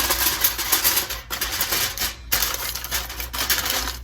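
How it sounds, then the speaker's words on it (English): Aluminum foil crinkles loudly and continuously, close up, as it is wrapped around a cooked pork belly, with brief pauses between crackling bursts. "I'm going to wrap this in some noisy aluminum foil"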